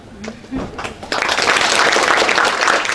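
An audience at a university public lecture breaks into dense, sustained clapping after a moment of a speaking voice, the applause swelling to a loud, steady roar that fills the rest of the short stretch.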